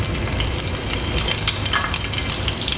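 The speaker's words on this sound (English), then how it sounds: "Let's fry the shrimps for some time." Shrimps fry in hot coconut oil, giving a dense, steady sizzle with crackling spatter throughout, close and loud with no talking.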